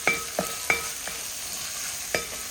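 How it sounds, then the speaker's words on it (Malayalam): Tomato being sautéed in a pan for a chicken curry, with a few sharp spoon scrapes and taps against the pan over a faint sizzle, close and fairly quiet with no talking. "നമുക്ക് ടൊമാറ്റോ ഇതുപോലെ ഒന്ന് വഴറ്റിയെടുക്കാം അല്ലേ."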